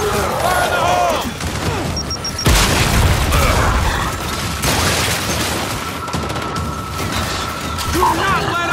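A grenade explodes amid a chaotic battle in the video game Gears 5, with a heavy booming blast standing out against dense gunfire, mechanical clatter and a continuous loud wash of combat noise, with shouting voices over the top.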